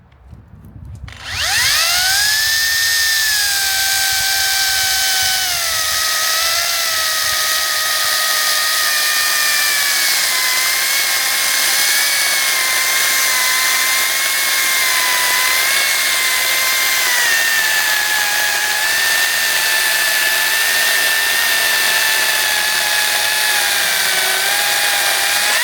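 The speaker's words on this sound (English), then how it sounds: "Still no problem for the chainsaw." A Makita mini chainsaw cuts through a log longer than its blade, a loud, steady high-pitched motor whine that holds almost unbroken for over twenty seconds after a brief start-up, with slight pitch dips as the chain bites the wood.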